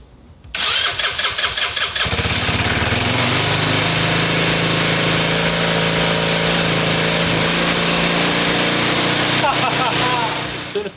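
An old two-seater off-road go-kart engine that sat uncovered for two years cranks, catches and settles into a loud, steady running drone, close by, with a brief rev near the end and a voice partly under it.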